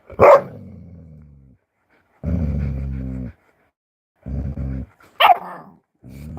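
A puppy growls and barks in short bursts near the microphone, several separate outbursts broken by pauses, with no talking during them.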